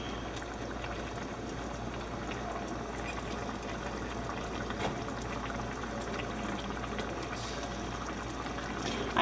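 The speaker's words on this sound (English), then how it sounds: "It's coming close to a boil already." A pot of water with noodles nearing a boil gives off a steady, faint bubbling and hissing rumble, constant and uninterrupted with no talking.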